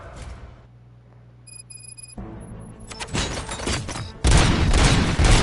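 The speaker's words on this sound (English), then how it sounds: "Gunshots? What's going on?" Gunfire erupts in a RoboCop action scene: after a quieter stretch with a faint tonal hum, dense, loud bursts build up and keep going to the end.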